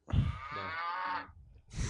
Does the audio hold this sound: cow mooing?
yes